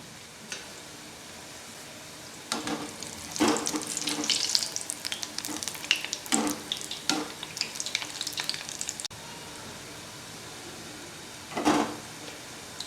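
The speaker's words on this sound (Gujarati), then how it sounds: "પલટાવતા પલટાવતા બ્રાઉનિશ થાય ત્યાં સુધી તળીશું" Oil sizzles continuously as green pea kachori deep-fries, with bursts of louder crackling and occasional stirring scrapes.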